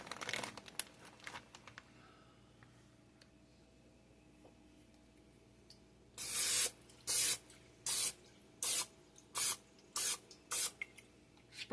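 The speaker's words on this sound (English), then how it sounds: "Spray your pan." Cooking spray hisses onto a pan in a run of about eight short, loud, evenly spaced bursts, following a quieter stretch of faint rustling and handling noise.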